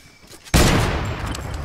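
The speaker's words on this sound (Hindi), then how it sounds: "Left side left side left side गोली चल रहा था।" Gunfire in a battle royale video game, a sudden loud burst of shots that rings out and decays with a lingering rumble, heard alone without talk.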